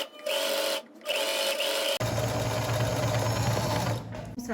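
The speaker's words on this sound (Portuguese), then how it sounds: "venho fazendo uma costura com o pé de máquina" Fast buzzing stitch rattle of a sewing machine running fabric under the presser foot, a brief start with a short pause, then a louder continuous run that slows toward the end.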